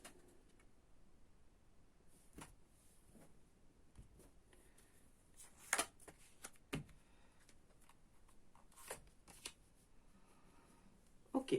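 Tarot cards shuffled and handled in a quiet room, heard as a series of soft, scattered riffling and snapping bursts separated by short pauses, with no talking.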